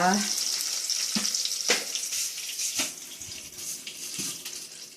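Onion and curry leaves tempering in hot oil for sambar, a steady close hiss of frying with a few soft knocks and clinks from stirring, moderate in level, with no talking.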